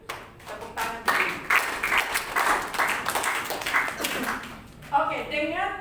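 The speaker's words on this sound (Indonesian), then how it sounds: "Tepuk tangan dulu." A congregation at a church teaching session claps on cue, a burst of hand clapping that rises and falls in uneven waves, then a voice starts talking near the end as the clapping thins.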